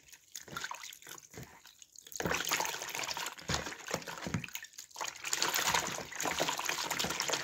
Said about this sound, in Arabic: كتشدي اي معلقه ولا غير باليد ديالك وتحاولي تذوبي هذاك معجون الاسنان باش يرغوي